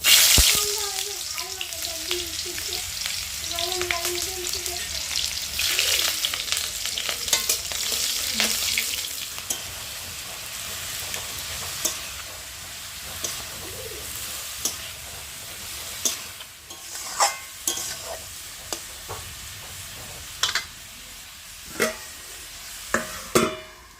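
Ash gourd frying in a very hot wok: a loud, steady sizzle fills the first half, then settles into a quieter crackle broken by sharp clinks and scrapes of stirring.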